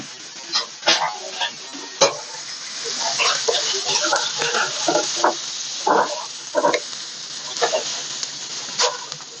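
Ground meat for chili being stir-fried in a pan with oil, a spatula scraping and tapping against the pan in irregular bursts over a soft sizzle, close and fairly loud, no talking.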